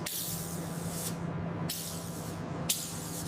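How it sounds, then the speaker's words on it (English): Primer sprays onto a Mercedes car body during restoration in three long hissing bursts, each ending in a brief pause, loud and close with no voices. "Laying down the primer to seal the work."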